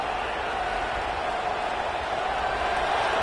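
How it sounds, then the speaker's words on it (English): Dense, steady roar of a large football stadium crowd at a game, broadband and continuous for the whole stretch, slightly swelling toward the end with no clear individual voices. "listen to this crowd noise. This stadium is vibrating"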